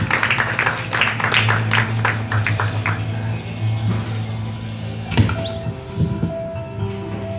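Audience applause for a young girl starting out in painting, heard at a municipal art exhibition in Tejupilco: a steady wash of many hands clapping, moderately distant, continuing through the whole stretch with a few louder claps near the end.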